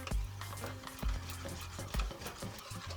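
Spicy mixture for Jamaican fried fish stirred in a bowl, soft scraping strokes with a few louder knocks of the utensil against the side at a regular pace, close and without talk.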